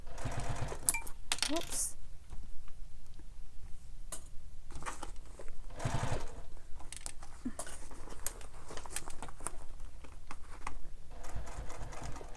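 Sewing machine stitching a handbag lining, running in bursts of mechanical patter with short pauses between runs; a voice speaks briefly over it.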